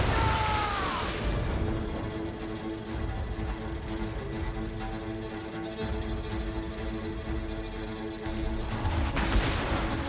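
Ship cannons fire during a naval battle in Assassin's Creed Rogue, a dense, continuous barrage of booming shots and crashes, loud and close, swelling again toward the end amid battle noise.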